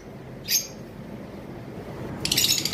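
Caged opaline parakeets at a bird sale give a short high chirp early on, then a denser burst of bright chirping near the end, over a low steady room background.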